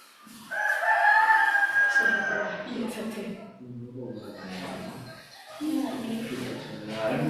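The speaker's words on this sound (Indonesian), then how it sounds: "Nah, tuh ayamnya berkokok, ayam dari Jatisari." A rooster from Jatisari crows loudly and close through an open door, one long drawn-out call followed by softer clucking, with people talking throughout.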